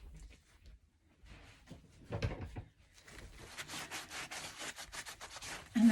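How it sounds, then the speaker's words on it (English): Microfiber cloth wiping down painted MDF, a soft rubbing and swishing that starts faint and sporadic, then grows into steady, closer strokes with a few sharper scuffs, no talking. "I do my final wiping down with a microfiber cloth"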